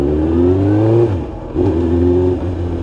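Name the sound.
Suzuki GSXR1000 motorcycle engine revving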